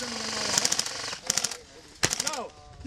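Airsoft guns fire rapid bursts of sharp clicking shots during a game at an outdoor arena, three quick volleys close by, with people talking and shouting in between.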